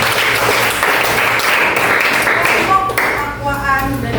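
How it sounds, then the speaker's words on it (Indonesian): A ninth-grade middle school class claps in a loud burst of applause that fades toward the end, with a voice speaking faintly in the closing moments. "beri tepuk tangan dulu"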